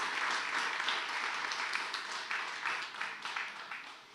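Audience applause at a church gathering, a steady wash of many hands clapping at moderate volume that slowly fades over a few seconds, with no voices on top.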